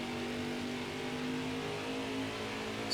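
Race truck engine easing off the throttle in NASCAR Heat 5, a steady mid-pitched drone with a faint whine held at constant loudness for the whole span, no voices over it.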